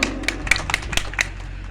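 Scattered hand claps from an audience at a Bihu celebration gathering in Tiplai Bhakatpara, Assam: a handful of sharp, irregular claps over a low background hum, with no talk.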